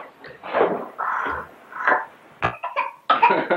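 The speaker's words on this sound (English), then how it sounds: "You're coughing at Grandpa." A young child coughs several times in quick, uneven bursts near the listener, inside a family home in La Crosse, Wisconsin, with soft adult talk around the coughs.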